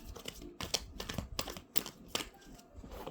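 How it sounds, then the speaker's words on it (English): Tarot cards are shuffled close up in quick, crisp riffles and slaps, irregular bursts of papery clicks spaced through a few seconds with no voice. "Let me see if I can shuffle some cards real quick"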